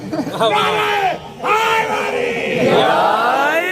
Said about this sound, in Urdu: نعرے اتنے بلند لگوا دیے۔